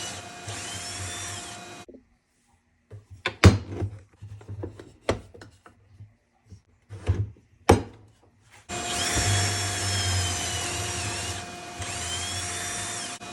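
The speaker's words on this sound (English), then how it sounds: "This jig made these 3 pocket holes effortlessly and no time flat with the auto clamp system" A Kreg pocket hole jig with an auto clamp drilling three pocket holes into wood, with a steady high drill whine at the start and end and sharp clunks and rattles of clamping between, close and loud.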